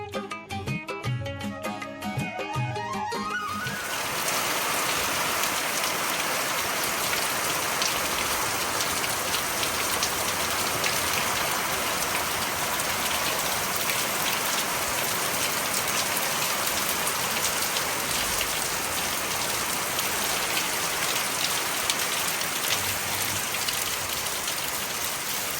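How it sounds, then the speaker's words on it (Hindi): Heavy morning monsoon rain pouring onto a house rooftop, a steady loud hiss running throughout after a brief louder clatter at the start. "और इतनी घनघोर बारिश हुई है आज की क्या बताएं"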